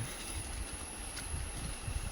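A train at Nilambur railway station in Kerala during heavy rain gives a faint, steady rolling rumble with soft rail clatter, with no voices.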